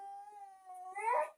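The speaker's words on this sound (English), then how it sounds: "Sorry, my dog's crying." A dog whines in a long, thin, sustained cry that rises into a louder wavering whimper near the end, heard close and alone in a quiet room.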